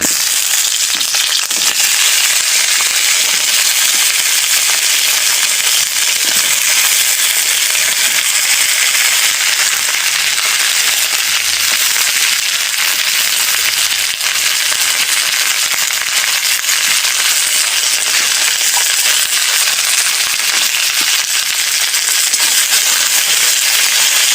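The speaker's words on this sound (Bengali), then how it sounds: "আমি ঢ্যাঁড়সগুলো ভালো করে ভেজে নেব" Okra frying in mustard oil in a pan, a dense continuous crackling sizzle that stays loud and even throughout, with no voices.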